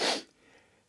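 A single sharp sneeze bursts out loud and close at the start, then trails off into quiet room noise.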